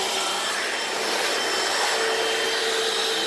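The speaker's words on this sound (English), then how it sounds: "Let the brushes do the work. That's why you buy a Floormate machine." Hoover Floormate floor cleaner scrubbing a stained garage floor, a steady loud whirring motor hum with brush noise, continuous and close with no talk.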